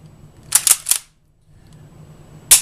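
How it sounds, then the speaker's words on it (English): A Mosin Nagant rifle bolt cycled by hand, three quick sharp metallic clacks in close succession, a short pause, then one more crisp clack, loud and near with no talk. "This bolt is actually pretty good for a Mosin."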